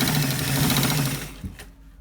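Sewing machine stitching a shawl collar along its marked shape, a steady rapid mechanical whir of needle strokes running close and loud before slowing and stopping near the end.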